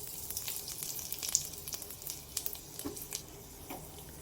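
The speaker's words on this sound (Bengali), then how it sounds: "ঘিটা মেল্ট হয়ে গেছে, এবারে এর মধ্যে আমরা কয়েকটি ছোট এলাচ ফাটিয়ে দিয়ে দিচ্ছি।" Small green cardamom pods sizzle in melted ghee in a pan, a steady fine crackle with scattered sharper pops as they fry, alone with no talking.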